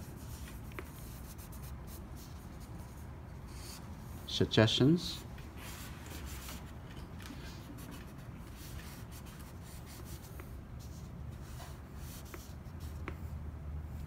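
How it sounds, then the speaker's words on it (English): Charcoal pencil rubbing and brushing over paper during a life portrait drawing, a soft continuous scratchy texture with a brief spoken word partway through. "Now I'm gonna brush the charcoal pencil."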